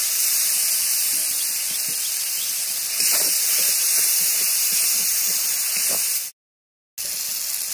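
Tomatoes and a splash of water hit spice paste frying in a pan for a village-style curry, making a steady, loud hiss that runs almost unbroken, cuts out briefly near the end, then resumes.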